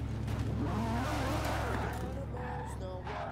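A newer Ferrari in the Forza racing game roars steadily with engine drone and some tire squeal, loud and continuous, while someone talks over it.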